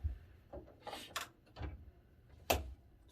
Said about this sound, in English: Close this door up.